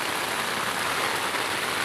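Heavy rain pours steadily over a flood-prone neighborhood, a dense, even hiss with no break.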